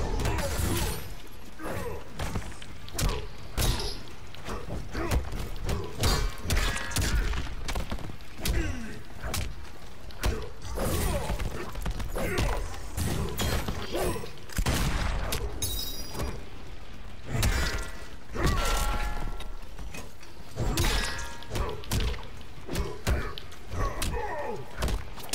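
Mortal Kombat 11 online fight with Shao Kahn, dense stream of heavy thuds, slams and crashing impacts as a character is thrown around, steady and busy throughout with game music and effects layered underneath.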